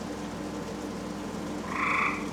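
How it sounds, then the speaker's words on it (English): Frog croaking from inside a large 4-by-2.5-foot box tied to a haunted Mercedes E320, a single nearby croak rising late in the moment over a steady low background hum. "Frog, where are you?"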